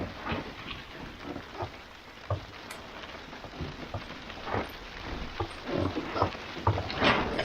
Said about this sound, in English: And now the rain.